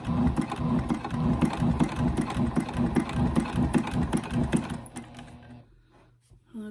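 A Juki TL-18QVP Haruka sewing machine stitching through a journal binding with thick thread, a loud, steady rapid mechanical chatter running for about five seconds before stopping, with a low hum left behind.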